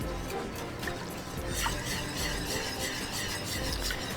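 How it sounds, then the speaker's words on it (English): A whisk working steadily through a sauce, giving a soft continuous wet swishing and light clinking close by, with no voices. "Keep on whisking."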